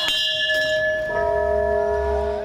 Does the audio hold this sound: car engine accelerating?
no